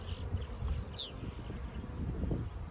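Honey bees buzz around an open hive, a dense, continuous hum close by with individual bees droning past now and then, no voices heard.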